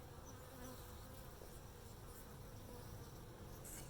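Honeybees fly home to a hive beneath a black sapote tree at dusk, a faint continuous buzzing hum with no voices.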